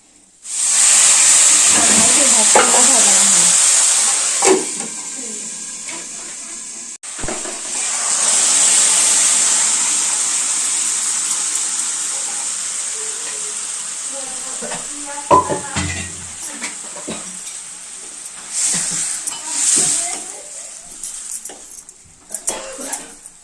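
Tivra (lathyrus) greens frying in a hot pan in a village kitchen, a loud steady sizzle and hiss with occasional scraping stirs and clinks, the sizzle easing slightly and rising again over time.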